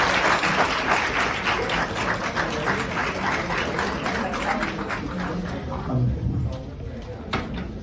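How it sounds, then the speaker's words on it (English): A large audience gives a sustained round of applause at a college talk event, dense clapping filling the clip before tapering slightly near the end. "Please give a huge round of applause, everyone."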